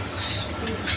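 Indian Bombay pigeons on a farm give a brief, low, soft cooing over a hum of background noise.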